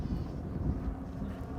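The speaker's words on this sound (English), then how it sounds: "Oh, that's a helicopter." Low, rumbling engine drone of a helicopter passing overhead at an air show, dense in the low end and fairly steady, with a little wind buffeting.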